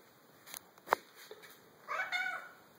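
A cat meows softly a few times, short faint calls followed by a longer drawn-out meow, with quiet background hum.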